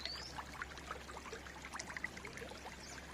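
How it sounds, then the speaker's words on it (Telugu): Clear water trickles and pours out from between rocks, a faint, close gurgling with small splashes and drips over a low steady hum. "బండల నుంచి ఒక స్వచ్ఛమైన వాటర్ వస్తున్నాయి"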